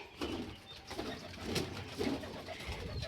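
Pigeons coo close by in a roost where they nest and lay eggs, soft throaty calls repeating over a busy, uneven background with no one talking.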